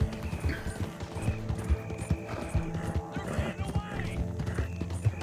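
Horse hooves clip-clop in a video game, a steady rhythmic trot under busy game music and effects, with occasional whinnies and a voice talking over it.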